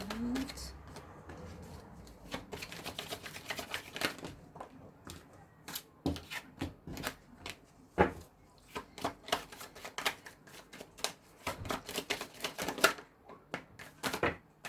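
Tarot cards are shuffled close by in a long run of rapid, crisp flicking and riffling clicks in uneven bursts, fairly quiet overall.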